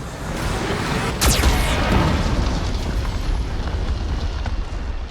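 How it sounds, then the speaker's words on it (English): A Geth cannon blast from Mass Effect 2 erupts in a loud, booming burst with a sharp whooshing sweep, followed by a sustained rumble over a dense background roar. "The VI infection has assumed control of the Geth cannon."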